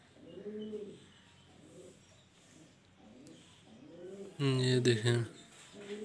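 Pigeons, a brown-tailed one and a white lucky pigeon kept as a pair, coo in repeated low throaty rolls close by, with a louder burst of cooing near the end and someone speaking briefly over them.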